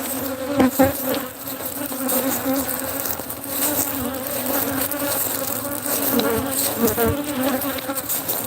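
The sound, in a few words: angry honey bees buzzing around beekeeper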